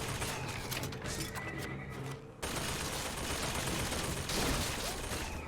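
Gunfire in the video game Bioshock Infinite, dense rapid bursts of shots and clattering impacts rattling almost without pause, with a brief dip before the firing resumes loud and sustained.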